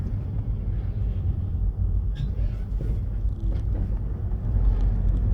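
Slow-moving traffic with trucks easing over road bumps, a low steady rumble of engines and tyres heard from inside a Mazda Axela on a bypass, with occasional faint thumps and clatter.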